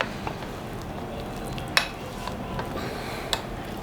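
A spoon scrapes and clinks against a bowl while besan (gram flour) and yogurt paste is mixed, soft wet stirring with a few sharp taps at irregular intervals, close and fairly quiet.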